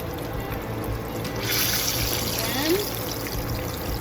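Hot frying oil trickles and drips off a batch of fried fish lifted from the pan for escovitch fish, a brief close wet pouring rush in the middle over a steady kitchen background, with a voice speaking briefly.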